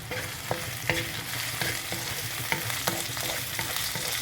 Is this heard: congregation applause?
no